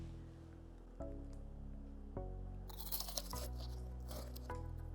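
Someone bites into a homemade healthy Snickers-style candy bar, giving a few close, crisp crunches and chewing sounds in an otherwise quiet room.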